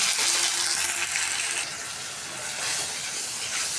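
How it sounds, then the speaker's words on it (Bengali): Spices sautéing in hot oil while cooking a rohu fish curry with mixed vegetables, a steady close, bright sizzle and hiss that dips slightly midway and carries on without talk. "মাছ ভাজিটা হয়ে গেছে, এখন মশলা আমি কষাই নেব। সব মশলা দিয়ে দেবো"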